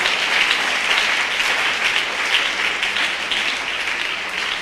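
Loud, sustained applause from a church congregation fills the whole stretch, steady dense clapping with no break and no talk over it.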